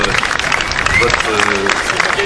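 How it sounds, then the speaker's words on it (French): Audience applause along the Festival de Cornouaille parade route, a steady wash of clapping from a crowd with an announcer's voice and band music over it throughout. "il faut quand même applaudir tout le travail qui a été fait"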